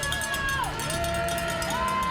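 Crowd cheering and shouting at the finish arch of a youth cycling stage around Issoire, with whistles and voices rising over a steady roar of spectators nearby.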